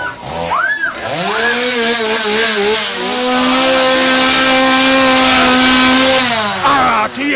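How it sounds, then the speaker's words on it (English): A chainsaw starts up and revs loudly in a haunted attraction, climbing in pitch and holding a high whining drone for several seconds before dropping off. "they don't see the chainsaw"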